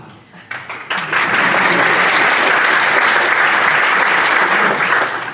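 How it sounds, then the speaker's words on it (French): Audience at a prestige lecture by Cédric Villani at the GRETSI 2015 conference breaks into applause: a few scattered claps quickly swell into loud, steady clapping from a large hall that holds until the end. "Ça suffit pour un applaudissement, c'est bon."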